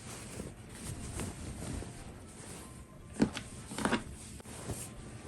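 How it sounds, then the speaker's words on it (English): Wind buffeting outdoors, a rough, fluctuating rumble with a couple of louder gusts or knocks midway, no speech. "So windy outside."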